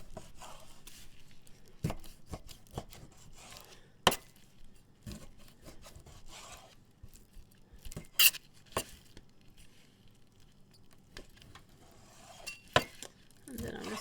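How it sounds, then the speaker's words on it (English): A knife cuts raw chicken breast into small chunks on a board, giving a scattered run of sharp, close taps and knocks with quiet scraping between them, for canning. "And then I'm just going to cut it up in little chunks."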